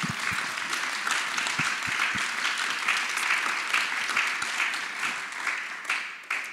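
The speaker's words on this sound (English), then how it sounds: "a quick hand of applause for our panel" Audience gives a warm round of applause to the panel at the close of a water-policy discussion, a sustained, even crowd clapping with a few sharper nearby claps, tapering off toward the end.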